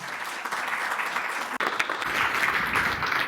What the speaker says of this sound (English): Let's please give Andrew a round of applause